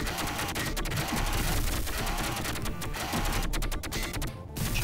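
Rapid gunfire in the co-op game Doom Troopers: fast, rattling bursts of shots that run almost nonstop, loud and close, with a brief gap near the end.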